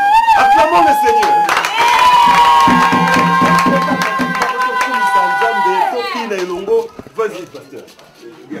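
A church congregation in a Congolese theatre scene acclaims the Lord with loud, sustained cheering, shouting voices and scattered clapping that fades toward the end.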